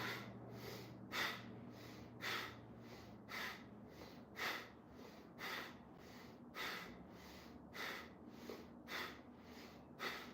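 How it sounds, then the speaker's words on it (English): Rhythmic inhales and exhales during a breath-focused posture workout class, about a dozen regular breath bursts roughly every second, close and audible over a soft steady background hum. "So we start, inhale and exhale."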